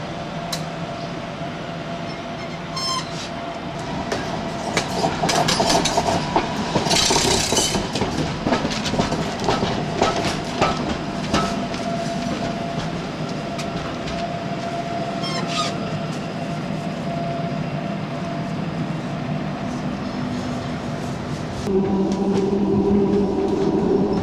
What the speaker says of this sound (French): La station de tramway se situe juste en bas de notre hôtel.